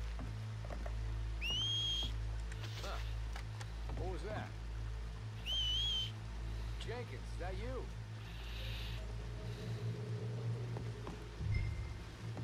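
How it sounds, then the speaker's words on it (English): Whistling in the video game Red Dead Redemption 2, two short rising two-tone whistles by the water with a low engine-like drone beneath and voices talking in between. "Whistle or something."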